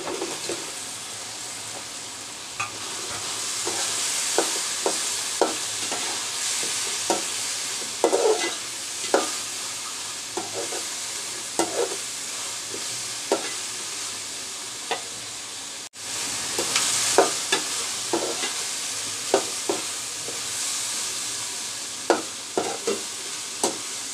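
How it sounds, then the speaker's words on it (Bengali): French fries frying in a pan make a continuous close sizzle, broken by frequent spatula stirring and scraping clicks over the whole stretch, with a brief cut near the middle. "এবার আমি ফ্রেঞ্চ ফ্রাইগুলো দিয়ে দিচ্ছি।"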